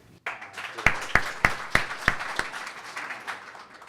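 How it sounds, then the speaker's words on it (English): A few individual claps ring out sharply at a business hackathon keynote, spaced and distinct, then blurring into softer scattered clapping that fades away. "everybody needs to give Tim a round of applause for your vision"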